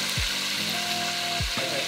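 Chicken pieces fry in a pan on a home stove, a constant loud sizzle with a few scraping stirs and the clatter of pieces being turned over, with no voices.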